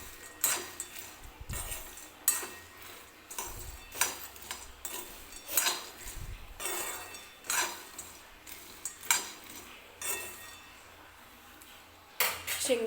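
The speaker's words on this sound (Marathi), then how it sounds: "त्यासाठी ही डबलदा शेंगदाणे असे भाजून घ्यायचे." Peanuts being dry-roasted over a low flame in a pan for Solapuri peanut chutney, stirred with a utensil that scrapes and clinks against the metal in a steady, moderately loud rhythm, with no talking.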